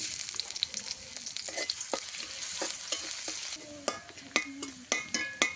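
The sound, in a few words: chopped onion frying in oil in a kadai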